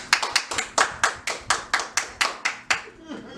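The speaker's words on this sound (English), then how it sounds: "now we're gonna give him 2 claps" A small group claps in an even rhythm, about a dozen sharp, close claps at a steady pace, tapering off at the end.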